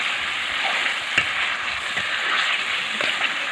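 Peeled boiled eggs drop into hot oil and masala cooking over a wood-fired chulha, raising a steady, close, dense sizzle and fry hiss that runs unbroken throughout.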